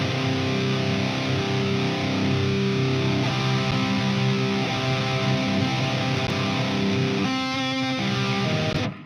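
An Ibanez 7-string electric guitar with Gem Root pickups plays heavily distorted, loud sustained chords for several seconds, dense and continuous, then stops abruptly, with no talking.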